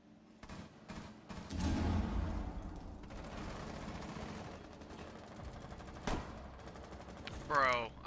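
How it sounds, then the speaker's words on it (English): Revolver gunshots in the Rainbow Six Siege video game ring out as a few sharp separate cracks within a busy mix of other game gunfire and effects, with some talking. "These headshots with this fucking revolver, man."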